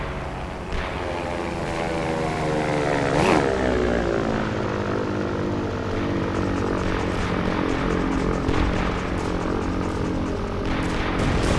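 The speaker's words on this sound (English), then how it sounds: "Here comes my favorite aircraft in the game." A WWII-era propeller aircraft roars overhead in the WWII Online game, a loud steady drone with a pitch sweep as it passes close, engine harmonics sliding down and then holding for several seconds.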